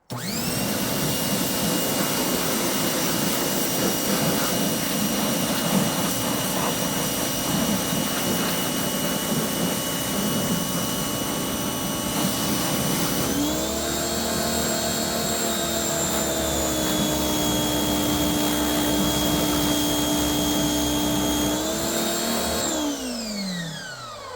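A pressure washer runs steadily while sucking air, a loud continuous whining drone with a sustained tone that shifts pitch midway and drops again near the end, with no talking.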